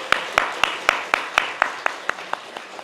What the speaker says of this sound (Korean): 우리 앞에 계신 분들 우리 박수 한번 하겠습니다.